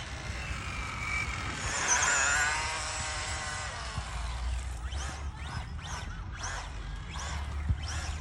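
An ARRMA Infraction Mega RC car with a brushless 3900kv motor and 100 amp ESC whines past, its motor note rising and fading, then comes a series of short bursts of tire and motor noise at moderate distance, with no talk.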